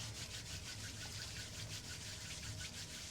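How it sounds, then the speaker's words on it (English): Two palms rubbing gently together during a yoga relaxation, a steady soft brushing friction that runs continuously and close without pauses or talk. "We're just going to gently rub the hands together, creating a little bit of heat towards the hands again."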